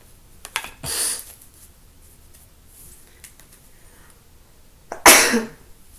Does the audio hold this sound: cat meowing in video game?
no